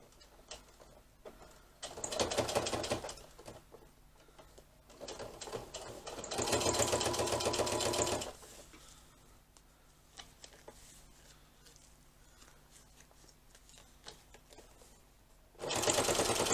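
A sewing machine top-stitches along the zipper of a fabric bag in short and long bursts, close up, with quiet pauses between runs and no talking.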